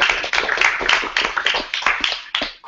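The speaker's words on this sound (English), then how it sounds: "Another round of applause for Jeremy." Audience at an Arizona WordPress meetup in Chandler applauding a speaker, a few distinct nearby hand claps in a loose, uneven rhythm that fade out over a couple of seconds.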